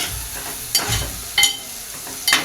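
Ground spices, including coriander-cumin powder and red chili powder, sauté in a pan with a low sizzle and three distinct scraping stirs spaced evenly apart.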